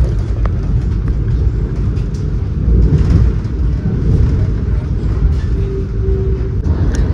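Steady low rumble of a Mumbai suburban train riding toward Thane station, continuous and fairly loud, with a brief tonal squeal near the end and no talk.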